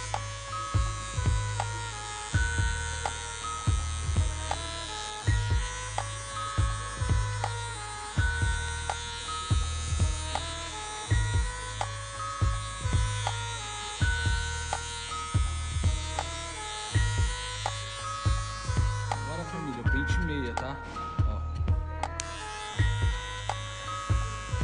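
Electric hair clippers fitted with a number one guard buzz steadily while cutting hair for a men's fade, close and continuous, the hum pulsing as the clippers pass through the hair with repeated strokes.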